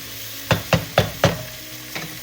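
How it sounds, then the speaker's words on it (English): Aromatics sautéing in a pan with salt and pepper, where four evenly spaced scraping taps of a utensil stir over a soft background sizzle, followed by one fainter tap. "Continue to saute our aromatics"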